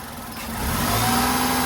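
Petrol engine of a Tata Tiago XZ+ hatchback revving lightly, heard up close as a steady idle that swells into a gentle rev over a second and a half, with no talking.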